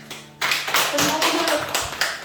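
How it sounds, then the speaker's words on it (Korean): Audience at a Korean church revival meeting claps hands together to welcome a speaker to the stage, a close, loud burst of rapid clapping starting after a brief quiet moment and continuing steadily. "큰 박수로 환영해 주세요"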